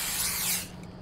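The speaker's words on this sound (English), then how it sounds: "I like how the spray just disintegrates the rat" A short hiss of spray in a video game as it wipes out a rat, loud at first and then cutting off after about half a second, with a steady low hum underneath.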